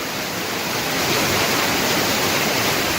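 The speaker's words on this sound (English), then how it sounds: "So here's a video of Bear Creek going through the woods." Bear Creek rushing through woodland on a mountain hike, a steady, broad hiss of flowing water heard up close and alone, with no voices over it.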